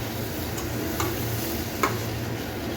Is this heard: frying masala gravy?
yes